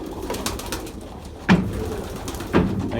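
Pigeons coo softly and repeatedly in an enclosed space, with a couple of louder, closer coos standing out over a low murmur of birds.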